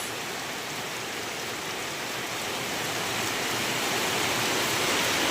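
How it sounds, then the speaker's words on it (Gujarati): Steady, dense rain hissing across the whole clip, a heavy downpour that grows slightly louder toward the end, with no voices. "જો અહીંયા વરસાદ ચાલુ થઈ ગયો છે ફૂલ"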